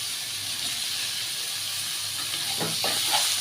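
Chopped banana flower sautés in a pan with salt, bay leaf and spices, giving a loud, steady sizzling hiss close by with a few brief stirring scrapes near the end.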